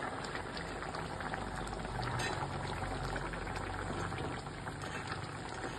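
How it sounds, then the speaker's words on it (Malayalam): A pot of sardine chilli curry at a steady boil, with continuous dense bubbling and simmering that stays close and even throughout, with no voices. "കറി നല്ലോണം തിളച്ച് വരുന്നുണ്ട്"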